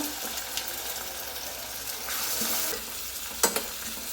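Onions and tomato fry in a pan, a soft continuous sizzle broken by scraping stirs and a few sharp clinks of the spoon, quiet and close.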